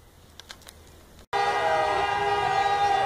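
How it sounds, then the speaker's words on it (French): Car horns blaring together in a street celebration by football fans after a World Cup round-of-16 qualification, a loud sustained chorus of blasts that bursts in after a quieter stretch with faint sounds. "Les voitures entament le concert de klaxons."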